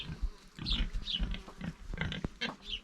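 Several piglets grunting and squealing close by in quick, irregular bursts, with snuffling between calls.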